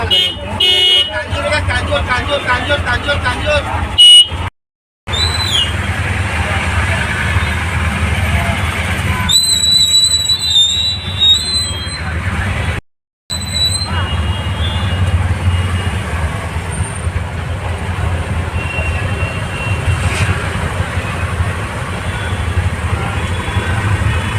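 Busy road traffic outside a crowded exam centre in Mumbai: passing engines, car horns and general street hubbub, with people talking over it and two brief dropouts.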